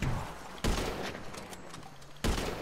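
Two sharp, loud gunshots in GTA V on Cayo Perico island, spaced well apart and ringing out over a steady rumble of game ambience.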